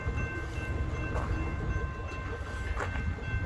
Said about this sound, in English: Hey, we got a BNSF freight train coming.